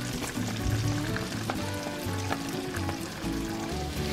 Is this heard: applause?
no